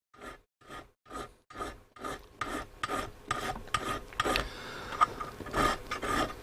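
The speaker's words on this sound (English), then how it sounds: "it's got a different size spindle on it. Doesn't need a lot of filing." Metal file rasping on the spindle of a replacement tuning capacitor for a Roberts R24 radio, starting as a steady rhythm of distinct strokes that quicken into continuous close scraping, with no talk.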